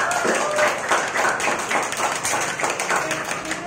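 Teenagers in a church congregation clapping during a Filipino prayer service: a burst of many hands clapping together, loud and fairly close, continuing steadily with some voices mixed in.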